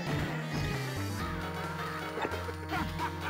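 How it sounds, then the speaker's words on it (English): Crows caw in the background of an Art of Fighting 3 arcade fight stage on Neo Geo, a few harsh calls mixed in with steady game music and effects. "I could hear crows in the background there"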